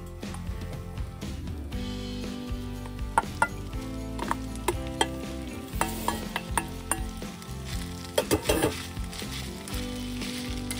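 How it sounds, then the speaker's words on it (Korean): Bracken and taro stems are stir-fried in three spoons of chili oil in a hot pan, making a continuous sizzle with repeated utensil clinks and scraping bursts against the pan, close and fairly quiet. "기름열이 오르면 고사리와 토란대를 넣어서 볶아주면 됩니다."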